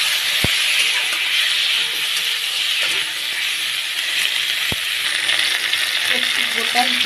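Tomato, ginger and slit green chillies frying in a pan give a loud, steady sizzling hiss throughout, broken by a couple of sharp clicks.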